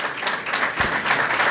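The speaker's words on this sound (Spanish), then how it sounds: "vamos a darle un aplauso a Patricio y" Seminar audience gives a speaker a brief burst of dense hand clapping at a talk on forage, steady and close for under two seconds with one heavier thump partway through.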